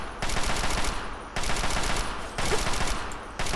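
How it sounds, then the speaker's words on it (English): Double-barrel shotgun fire in Fallout 3: three loud, dense blasts land roughly a second apart, each a broad sustained roar that cuts off sharply, with a fourth starting at the end. "he's the one that shoots with his double barrel shotgun"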